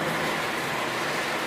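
A Lionel model train runs steadily on a home layout, a continuous rolling rumble and rail hum at close range with no pauses.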